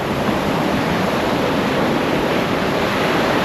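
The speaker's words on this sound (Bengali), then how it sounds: "দেখো ঢেউগুলো খুব জোর আসছে, মানে বড় আসছে" Strong sea waves break on Puri beach at sunrise in a steady, loud, continuous roar of surf with no pauses and no voices.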